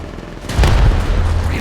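Frag grenade going off in Apex Legends Mobile, a single deep booming blast after a short quiet lead-in, with a rumbling low-end tail that carries to the end.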